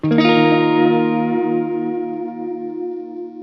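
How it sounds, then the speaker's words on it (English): An electric guitar chord rings out through a delay pedal, struck once and left to sustain, its bright harmonic tone slowly decaying with a slight wavering shimmer, loud and alone. "I'm gonna add back that delay again so you can kind of hear what I mean"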